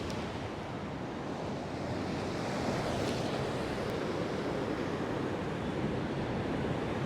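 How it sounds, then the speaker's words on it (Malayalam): Ocean waves break and wash continuously on Perumathura Beach in Trivandrum, a steady roaring surf with wind noise and no talking. "നല്ല രീതിയിലുള്ള തിരമാല അടിക്കും നമുക്ക് ഇവിടെ നിന്ന് കാണാം"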